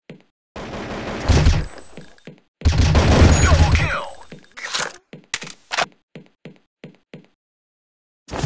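Two long, loud, booming blasts from grenades in the mobile shooter Crisis Action, during a ranked match against bots, followed by a string of short sharp cracks and knocks that trail off into silence.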